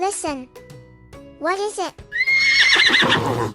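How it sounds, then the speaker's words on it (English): A horse whinnies loudly twice in a farm animal guessing game, with harmonic calls rising and falling, set between a woman's spoken prompts and followed by someone talking over some clattering. "Perfect. It is a horse."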